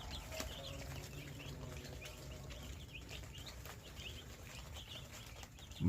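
Three-day-old tiger chicken chicks give faint, repeated high peeps scattered through a quiet, low background hum.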